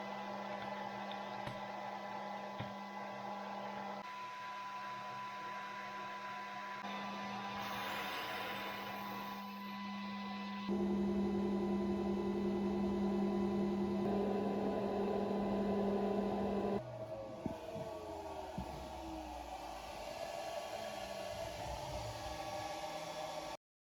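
An Atomstack X40 MAX 48 W laser cuts strips from an 18 mm solid oak board at full power, heard as a faint, steady hum and hiss of fans and machine noise that shifts in tone partway through, with no talking.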